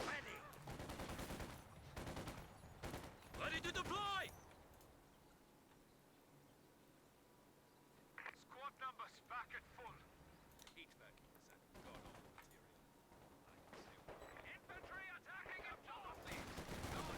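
Bursts of MG34 machine gun fire and other gunfire from a Company of Heroes 2 battle, loud clusters early and again in the second half, with a voice talking over the game.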